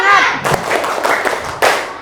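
Schoolchildren in a classroom doing a rhythmic spirit clap, a quick patterned burst of hand claps with sharp hits, mixed with children's voices and room noise.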